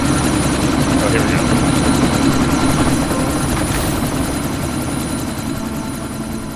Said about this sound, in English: Miller, chopper's been grounded.